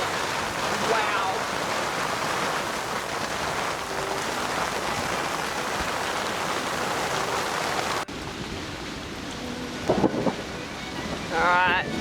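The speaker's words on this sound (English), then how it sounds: "Alright, here comes the thunder and lightning." Heavy rain drums steadily on a sailboat at anchor in the Bahamas during a thunderstorm, with a dull rumble of thunder beneath; after a cut the downpour eases and brief voices and knocks come through near the end.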